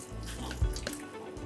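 Water pouring into a pot of Thai khao soi base being stirred on the stove, a steady close splashing rush lasting a moment with no voices.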